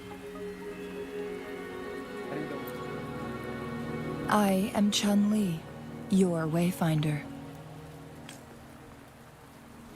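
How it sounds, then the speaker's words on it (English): Steady, soft rainfall patters in the video game Wuthering Waves and continues without a break, while someone speaks a short line over it. "Don't worry, the rain won't last much longer."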